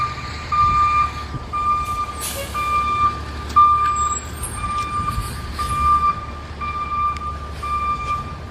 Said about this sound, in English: that reversing truck was coming to pick up one of those dumpsters